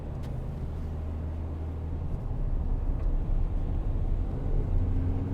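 A 2012 Volkswagen Amarok 2.0 BiTDI pickup drives along. A low, steady engine and road rumble fills the cabin and swells slightly as it picks up speed.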